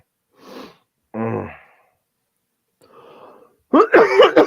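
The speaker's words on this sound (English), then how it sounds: "You get one cough and all of a sudden it just doesn't stop." A few separate coughs and throat-clearing bursts come with short silent gaps between them, close and fairly loud, ending in a harsher, raspier cluster.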